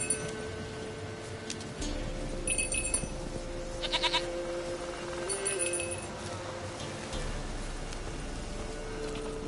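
A goat bleats a few times in The Witcher 3 game world, moderately loud over a steady patter of rain, while a voice speaks now and then.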